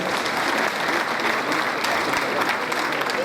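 At a graduation ceremony, an audience applauds continuously, a dense wash of clapping held at an even level from start to end.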